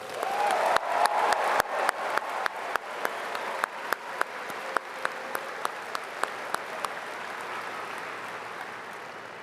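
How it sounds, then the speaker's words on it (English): Large conference audience at a NOAC gathering breaks into applause, broad crowd clapping with a few loud, distinct claps punctuating it near the front, sustained and gradually thinning out. "Conference, please join me in giving a round of applause to Kaylee."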